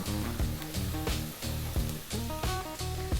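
Ginger, with garlic, frying in hot oil for fried rice gives a steady bright sizzle that runs throughout, partly masked by rhythmic background music with plucked notes.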